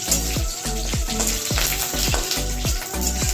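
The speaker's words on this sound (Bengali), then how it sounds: "সর্ষে, কারি পাতা আর কাঁচা লঙ্কা ফোড়ন দিলাম গরম তেলে।" Mustard seeds, curry leaves and green chili sizzle loudly in hot oil, a dense frying hiss punctuated by rapid popping crackles, close up and alone.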